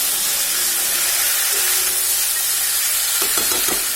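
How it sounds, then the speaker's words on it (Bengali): Mixed vegetables fry on a high flame, a loud, continuous sizzle with a few quick scraping stirs near the end, and no speech. "2 মিনিট মতো সবজিটাকে ফ্রাই করে নিতে হবে, অর্থাৎ একটু কষিয়ে নিতে হবে"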